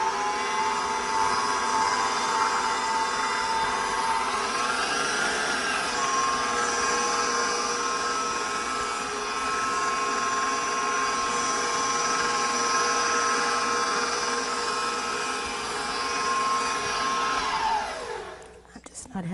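A home pasta machine runs at a higher speed with a continuous whirring motor drone and a steady tonal hum that bends briefly in pitch, then winds down at the end.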